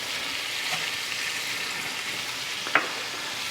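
Onions, carrots and celery softening in melted butter for a chicken pot pie give off a steady, even sizzle and frying hiss, alone throughout, with one brief clink partway through.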